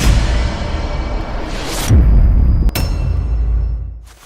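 Water pours from the seven spouts of a ritual bathing spring at the foot of Mount Salak, a loud, continuous rushing splash with a deep rumble that shifts in intensity, and no voices.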